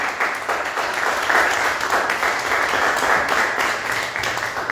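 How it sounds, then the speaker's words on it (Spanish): A church congregation claps together in steady, lively applause, loud and close, with some voices mixed into the sound. "Dale un aplauso al Señor."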